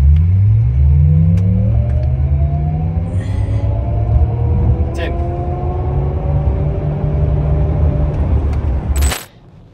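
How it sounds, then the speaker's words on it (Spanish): A 2024 Cadillac Lyriq accelerating at full throttle up a slope: a loud, steady road rumble with several rising whining tones that climb over about nine seconds, ending abruptly. "cómo suena el motor cuando pisamos el acelerador a fondo"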